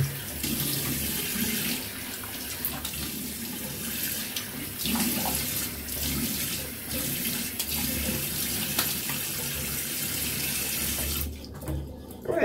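A tap runs steadily as a shaving brush is rinsed at a bathroom sink after a wet shave, a continuous splashing water flow that cuts off abruptly near the end, heard alone with no talking.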